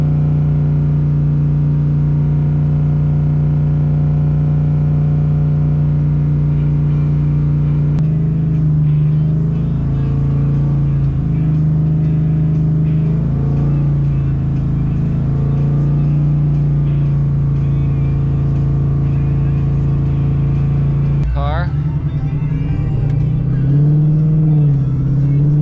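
Coyote V8 swapped into a Foxbody Mustang with a Gen3 10R80 automatic, pulling at wide-open throttle, a loud, steady in-cabin drone and rumble with the pitch stepping between gears and a sharp change near the end.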